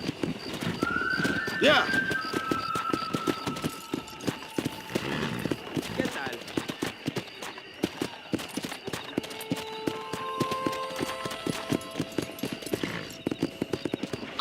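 Galloping horse hooves in Red Dead Redemption pound out a fast, steady clip-clop rhythm with a whinny early on, set against music and spoken lines from characters.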